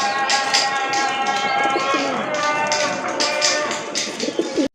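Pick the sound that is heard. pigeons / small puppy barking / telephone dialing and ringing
pigeons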